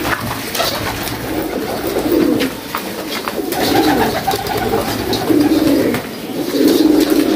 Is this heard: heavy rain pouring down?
no